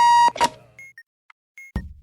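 Alarm clock beeping in the bomb-defusal video game Keep Talking and Nobody Explodes: a loud electronic tone, then several short, clear beeps in an irregular pattern, with no talk over them.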